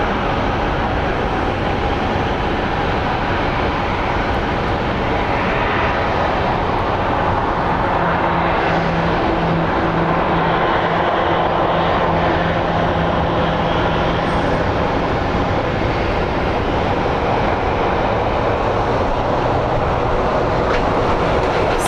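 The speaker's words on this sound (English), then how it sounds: "Sun Country is lining up for a departure." Sun Country airliner lining up for departure at Phoenix Sky Harbor International Airport, with a loud, steady jet engine roar and rumble that holds throughout, slightly distant and with no talk.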